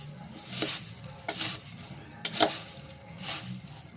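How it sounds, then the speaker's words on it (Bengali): A spoon stirs and scrapes through puffed rice chaat with coriander leaves in a bowl, soft scraping strokes with a couple of sharper clinks, close and quiet. "তো এই যে চামচটা দিয়ে মাখাবো"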